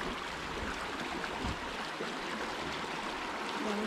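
Water rushes steadily over a weir and fish ladder near a campground in the Bavarian Forest, a continuous broadband roar at moderate distance with no voices.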